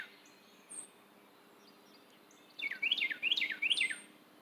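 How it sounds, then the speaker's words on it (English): A bird sings a quick series of bright, looping chirps and warbles, preceded by a brief faint call, outdoors over quiet background hiss with no talking. "So I'll leave you with the birds."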